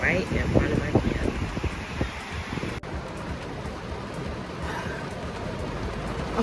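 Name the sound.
heavy rain pouring down outside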